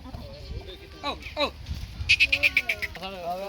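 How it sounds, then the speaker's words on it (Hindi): Castrated male goats kept for Eid bleat several times in quick, wavering succession on a farm, loud and close, with someone speaking before and after the calls. "ये देखो जी माशाल्लाह सारे भारे बकरे हैं माशाल्लाह"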